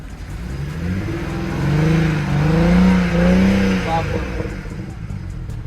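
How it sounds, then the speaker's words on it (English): A BMW 335i engine with two dead cylinders revs up from idle, swelling to a loud, rough peak and easing back down, heard close and steady with some voices over it. "rev it up"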